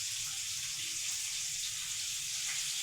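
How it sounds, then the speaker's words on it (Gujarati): Tomato dropped into hot oil tempering sizzles and hisses steadily and close, a continuous bright frying crackle with no voices over it. "એટલે આપણે વઘાર નાખ્યું ટમેટું."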